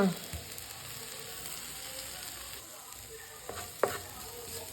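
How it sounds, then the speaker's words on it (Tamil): Ginger garlic paste sautéing in a pan gives a faint, steady sizzle with a couple of soft spatula scrapes and taps, close but quiet. "இஞ்சி பூண்டு பேஸ்ட்டையும் போட்டு நல்லா வதக்கிக்கலாம்"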